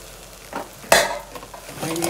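Spices and asafoetida frying in oil in a pan on a low flame in a home kitchen, a soft continuous sizzle broken by a sharp clatter of a spoon stirring against the pan, then quieter scraping.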